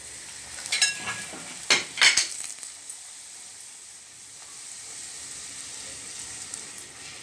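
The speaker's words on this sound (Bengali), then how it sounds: "আমি একবারে একটা লুচি ভাজবো" A single luchi frying in oil, a soft close sizzle with a few sharp utensil clinks and scrapes early on, then a steady low bubbling.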